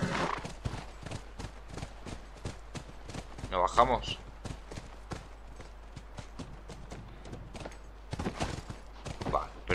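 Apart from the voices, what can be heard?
horse hooves clip-clopping in The Last of Us video game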